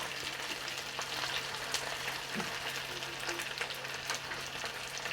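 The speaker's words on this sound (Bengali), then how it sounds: "ক্যাপসিকামটা বেশিক্ষণ ভাজবো না" Capsicum frying in a pan with onion and tomato for chilli chicken gives a faint, steady sizzle with a few soft stirring scrapes, heard close and alone.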